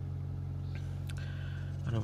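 A 2004 Toyota Avensis 1.6 manual petrol/LPG engine idles after a cold start in the Bolu mountains, a steady low hum running throughout, with a brief louder rise near the end.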